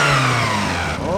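A Citroen Saxo 16-valve twin-cam engine with a 2-inch sport exhaust and 4-2-1 manifold, revving hard close up and then dropping in pitch as the throttle comes off, loud and raspy.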